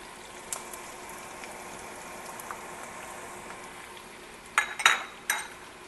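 Carrots go into a pan already holding onion, for a sweet and sour giant sea perch dish: a few quick clinks and clattering knocks near the end over a faint, quiet background.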